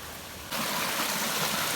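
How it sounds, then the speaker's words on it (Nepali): Water rushes down a stream, a dense steady broadband roar that jumps louder partway through as if drawing nearer, with no voices. "हाम्रो यही त हो पानी यता माथिबाट आउँछ"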